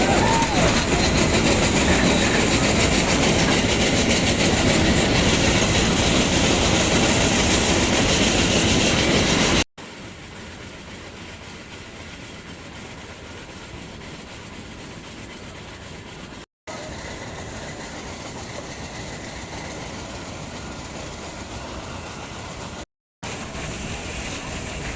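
The Nilgiri mountain train runs between Mettupalayam and Ooty with loud, steady rail and carriage rumble. The noise drops to a quieter level after about ten seconds and is broken by a few brief cuts.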